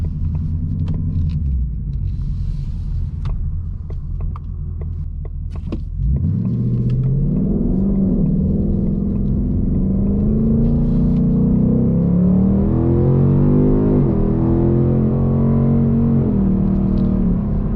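A deep V8 engine of a Ford Mustang GT Premium with a 10-speed automatic rumbles, then surges as the car accelerates hard to 60, pitch climbing through gear changes, heard steadily from inside the car.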